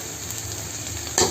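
Crushed garlic fries in a little hot oil in a pan for Maharashtrian vangyache bharit, a close, continuous sizzle with a brief louder scrape near the end.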